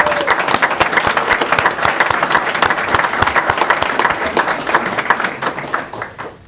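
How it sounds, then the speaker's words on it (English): A room of people at a school board meeting breaking into sustained applause, dense even clapping that holds for several seconds before thinning out toward the end. "I think that deserves some applause."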